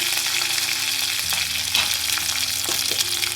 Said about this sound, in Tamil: இப்போ நம்ம கடுகு பொட்டிடுச்சு கருவேப்பில் ஆட் பண்ணிக்கோங்க கூடவே ஜீரகமாக ஆட் பண்ணிடுங்க லைட்டாக மிக்ஸ் பண்ணிட்டுருங்க